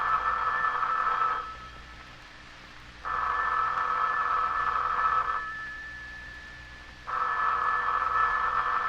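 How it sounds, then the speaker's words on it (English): An old-style telephone in a 1954 radio drama rings in long repeated bursts with pauses between, steady and moderately loud against a faint hum. "The telephone's ringing."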